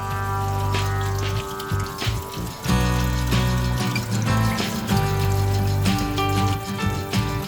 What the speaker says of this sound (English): And rinse them under cold water to remove any excess liquid.